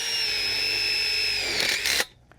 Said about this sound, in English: now we're gonna take our self-tapping screw and put it through the joint